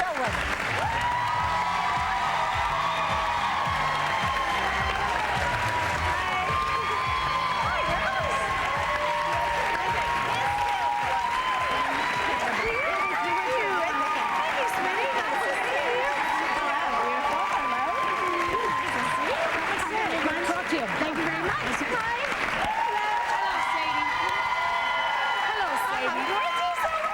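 A TV talk-show studio audience applauds Renee Zellweger as she comes on, with loud, dense clapping and cheering that holds steady for the whole stretch.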